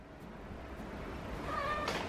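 A kitten gives a single thin, rising-then-held meow close by near the end, over a soft hissy room background with faint clicks and no speech.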